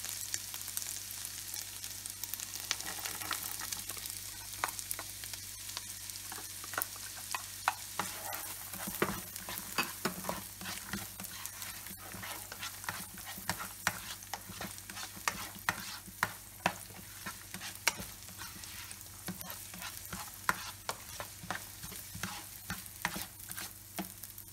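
Carrots stir-fry in a pan for egg fried rice, giving a faint, continuous crackle of frying broken by frequent scraping and tapping strokes of a spatula or spoon over nearly half a minute.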